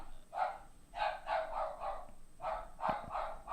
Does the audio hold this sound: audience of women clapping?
no